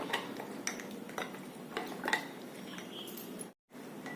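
Bajra flour being stirred into buttermilk with a spoon, giving soft repeated taps and clinks against the vessel over a steady background hiss, close and fairly quiet.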